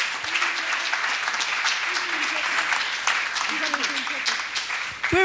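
Applause greets a bishop at a church leaders' summit, with a crowd clapping continuously under a speaking voice and light cheering throughout.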